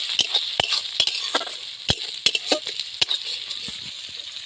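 Chopped tomato frying with vegetables in a pan for Bengali ghugni gives a steady close sizzle, broken by sharp irregular clicks and scrapes of stirring, with no voices.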